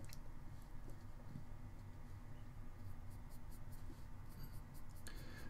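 2B graphite pencil strokes rub steadily across drawing paper in a continuous soft scratching, close and quiet, with no talk.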